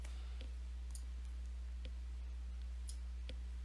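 A computer mouse clicks crisply several times at uneven intervals, close and distinct over a steady low electrical hum, while files are extracted and uploaded to an online server.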